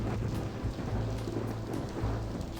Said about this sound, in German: es hat gerade so Gewittergeräusche gemacht